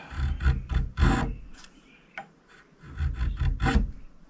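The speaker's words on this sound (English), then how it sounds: "Sharpening a chisel all depends how fussy you are." An antique chisel is sharpened with rhythmic rasping strokes, several quick back-and-forth rubs, a short pause, then another close, clear run of scraping strokes.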